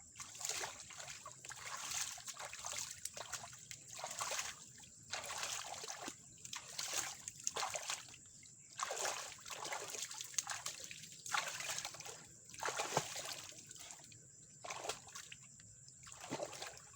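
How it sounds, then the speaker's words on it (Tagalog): A big river flows with its water surging and sloshing in quiet, repeated waves of rushing and trickling sound, rising and falling every second or so at a fair distance. "Ang laki ng tubig."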